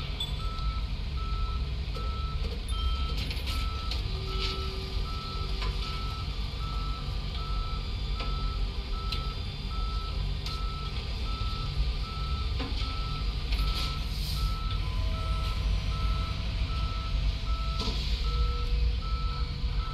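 Tow truck reversing alarm in the Police Simulator video game, Las Vegas patrol setting: steady repeating electronic beeps over a constant engine and traffic rumble, continuous throughout.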